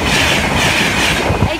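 A train rushes past a level crossing at speed, producing a loud, close, continuous roar with rattling wheels across the whole stretch.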